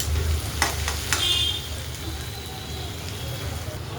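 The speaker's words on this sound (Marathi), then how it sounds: "कांदा आता बऱ्यापैकी भाजत आलेला आहे आपला. कांद्याला थोडं फ्राय होण्यासाठी वेळ लागतो." Chopped onions fry in a pan for soya keema, giving a continuous close hiss with a few brief scraping knocks early on and no other sounds over it.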